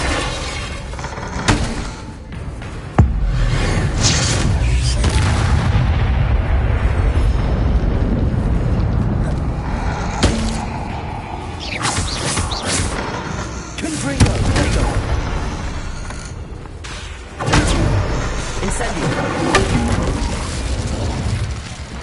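Bombarda and Confringo spell explosions in the Hogwarts Legacy video game: loud, dense booms and blasts rolling almost continuously, with sharp bursts near the start and later peaks, mixed with game music and effects.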